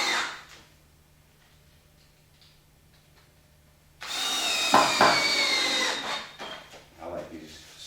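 A power drill drives a square-bit wood deck screw into a board, a loud whirring burst of a couple of seconds after a quiet stretch, trailing off with some handling noise.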